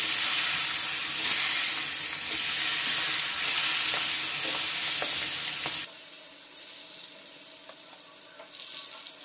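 Eggplant slices frying in hot oil, a loud continuous sizzle that drops sharply partway through and continues more quietly, with occasional clinks.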